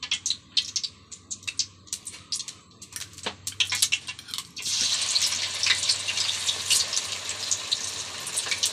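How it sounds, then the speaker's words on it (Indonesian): Tofu dropped into hot oil: a few light clinks and taps, then a sudden, steady sizzle of frying that stays loud and close to the end. "Tahunya kita goreng"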